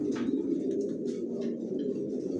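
Racing pigeons of long-distance Janssen line coo steadily in a loft, a continuous low murmuring chorus of several birds close by with no talking.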